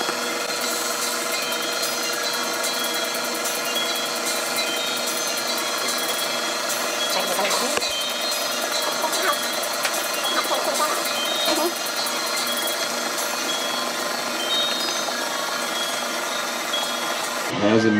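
A stand mixer kneads buttery bread dough with a steady, continuous motor whir and faint rhythmic churning throughout, holding level from start to finish.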